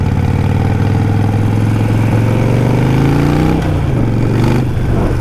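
A Harley-Davidson Nightster 1200 motorcycle engine runs loud and throaty, holding a steady deep rumble that rises slightly in pitch, then drops and settles back for a moment.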